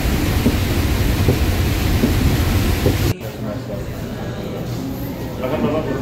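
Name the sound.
heavy rain with thunder in Medina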